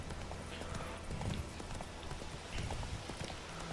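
Horse hooves clip-clopping at a steady riding pace in The Witcher 3, a continuous rhythmic beat of moderate loudness over faint game ambience with no talk.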